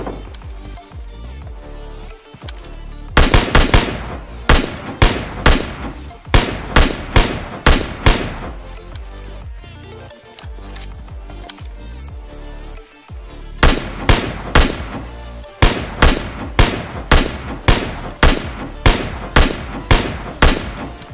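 Rapid bursts of gunfire in PUBG Mobile Lite, including shots coming from behind, probably an AKM and an SKS: loud repeated cracks in dense clusters separated by short quieter gaps, with no voices over them.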